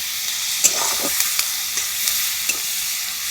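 Chopped onions fry in oil in a pan for a Sundarbans crab dish, a steady close sizzle broken by several soft scraping stirs of a spoon.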